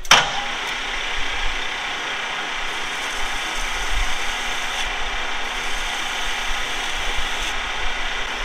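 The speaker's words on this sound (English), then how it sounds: "I'm going to hit that with some emery." Emery cloth rubbed steadily against a freshly machined irrigation valve part on a lathe, a continuous close scratchy hiss that runs unbroken throughout with no talking.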